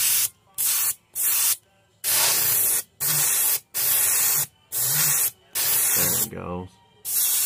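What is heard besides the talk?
paint spray gun spraying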